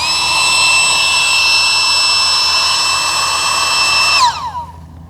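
A loud, high-pitched electric pump whines steadily for several seconds while deflating an inflatable packraft, then powers down with a falling pitch and stops.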